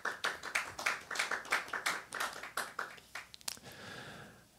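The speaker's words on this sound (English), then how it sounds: "Round of applause to all you people who read." A small audience at a poetry reading in the Duncan Showroom gives a short round of applause: a sparse patter of distinct, close claps that thins out and stops after about four seconds.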